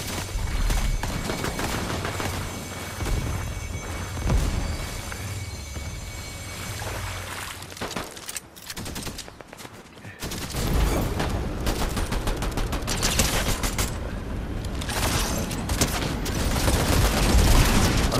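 Dense gunfire in an online shooter game, with rapid fusillades and machine-gun bursts, booming impacts and a brief lull before the shooting picks up again, loud and close throughout.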